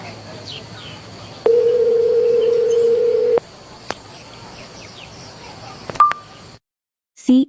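A WhatsApp phone call being placed, with a steady electronic ringback tone holding for about two seconds among faint clicks and blips, close and clear, then a short chirp near the end.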